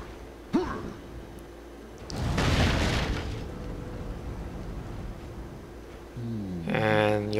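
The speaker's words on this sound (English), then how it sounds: "Now we can blow this up, find out what's behind here." Red boxes are blown up in the video game Majin and the Forsaken Kingdom, giving a loud, roaring explosion lasting about a second, followed by a lingering rumble and other game sounds.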